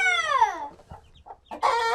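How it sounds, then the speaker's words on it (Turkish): A hen gives a drawn-out call, then soft clucks among chicks, followed by a burst of louder squawking near the end, at a highland house in Rize, Turkey. "Bak civcivler orada. Bak civcivler."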